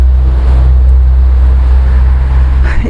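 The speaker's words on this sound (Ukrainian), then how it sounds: "У мене тут рядом дорога і їздять машини великі і шумно." Large vehicles rumble past on a nearby road, a loud, steady low drone that fills the whole stretch with no pauses.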